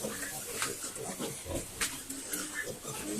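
Pigs on a farm sty give grunts and squeals with snuffling and hissy breaths, close and fairly loud in a continuous restless mix, with some human voice sounds among them.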